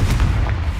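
A Confringo blasting spell going off in the Hogwarts Legacy video game: a short, loud, booming explosion with a heavy low rumble, alone and without speech.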